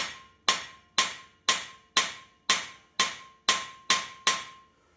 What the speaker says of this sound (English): there's another reason to use the dead blow hammer